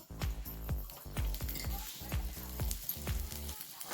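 Oil sizzling in a pan with roasted onion, heard as steady frying crackle under a run of close, rhythmic knocks, likely stirring or chopping.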